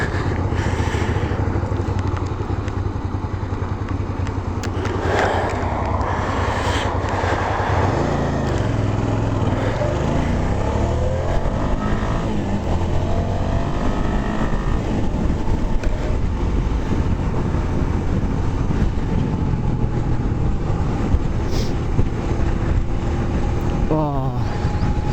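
Motorbike out on a country road, its engine droning continuously and close, with wind buffeting and gear changes shifting the pitch over a long stretch, as heard from the rider.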